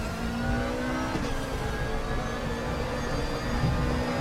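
A GT3 race car at full throttle in the RaceRoom Racing Experience sim at Sonoma, its engine a steady, loud, sustained drone with rising harmonic tones as it accelerates, running alone throughout.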